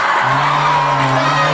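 Audience applauding and cheering for Iqbal at an Isra' Mi'raj sermon gathering, a loud, dense wash of clapping and voices with a sustained tone running underneath.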